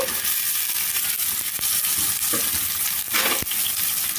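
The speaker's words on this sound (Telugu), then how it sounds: "ఇప్పుడు దీంట్లో మనం కట్ చేసి ఉంచుకున్న దొండకాయ ముక్కలన్నీ వేసుకోవాలి" Chopped ivy gourd pieces drop into a hot pan and start frying, giving a loud, dense sizzle with occasional scrapes and clinks of a spatula against the pan.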